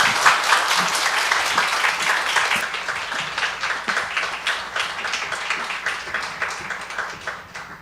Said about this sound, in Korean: 우리 나오실 때 힘찬 박수로 환영하겠습니다.